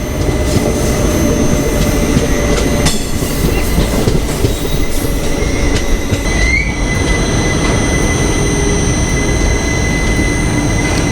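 A train entering Vijayawada station in India rumbles steadily with rail noise and a brief high wheel squeal, loud and close, with no voices.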